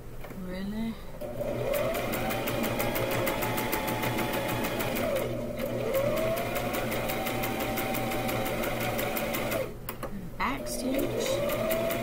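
Sewing machine stitching fabric for a rag quilt, with a steady close mechanical whir and brief pauses and speed changes where it backstitches, running nearly continuously with low talk underneath.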